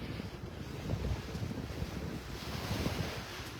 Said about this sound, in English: That breeze is starting to kick